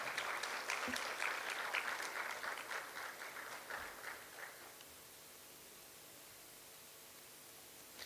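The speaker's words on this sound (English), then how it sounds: "Please give a huge round of applause." Audience clapping at a youth TEDx event, a broad hiss of many hands that fades out over the first few seconds and leaves quiet room noise behind.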